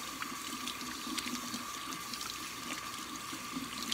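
Hot water runs steadily from a kitchen tap while hands are washed, a continuous rushing splash with small irregular spatters, close by, with no talk.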